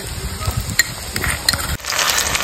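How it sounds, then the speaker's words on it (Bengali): Chopped onions with ginger garlic paste sizzle and are stirred in a pan while cooking duck curry, with a steady close frying hiss, scraping stirs and a few light clinks. "পেঁয়াজটা নেড়ে ছেড়ে ভেজে নিয়েছি। এবার দিয়ে দেবো আদা রসুন বাটা"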